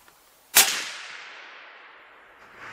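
A single .338 Weatherby RPM rifle shot cracks sharply and loudly up close, then a long reverberant tail fades across open ground while it is timed over a chronograph.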